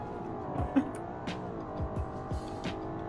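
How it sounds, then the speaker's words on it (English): A BeamNG race-car-like engine whines and drones, its pitch sweeping up and down through several quick gear shifts. "It sounds like a race car"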